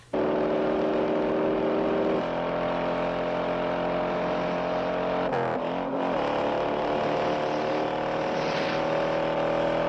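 Racing cars in the Bullitt chase scene, filmed at real high speed, give a loud, sustained engine roar that holds steady throughout, with a brief surge and shift in tone midway.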